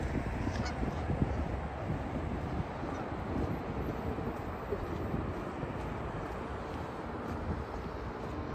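Geese honking by a lake on a sub-freezing November sunrise in Regina, a continuous chorus of overlapping calls at middle distance under steady wind noise on the microphone.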